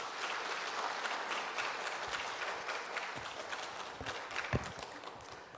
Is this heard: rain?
no